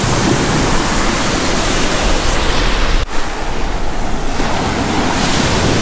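Ocean waves breaking on a beach of a Lake Michigan-style rocky shoreline: a loud, continuous roar of surf and wind with no voices, and a brief dip midway before the crash resumes.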